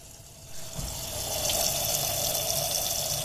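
Water pours steadily into the engine coolant reservoir of a 1997 Volkswagen Jetta, a continuous rushing, gurgling flow that swells slightly and holds at a moderate level with no talking.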